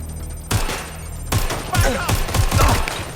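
Gunfire during a shootout in the video game Watch Dogs Legion, a string of sharp shots and bursts over a continuous background of game sound, fairly loud and close.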